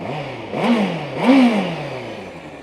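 A 2012 Honda CBR600RR sport bike with about 4,700 km on it, its engine blipped twice in quick succession, each rev climbing sharply and falling back to a steady idle, loud and close.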